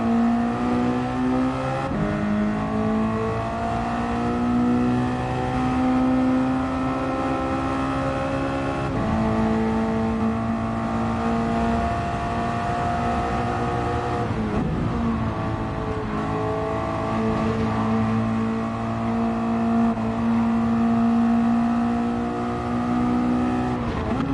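In a sim racing game, a car engine revs and climbs through the gears, its harmonic whine rising steadily and dipping at each shift, loud and continuous with no talking.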